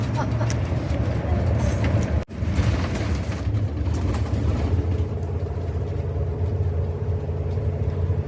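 An RV rolls along the Alaska Highway near Destruction Bay, a steady loud cabin road roar and engine drone with rattles throughout and one sharp clunk partway through.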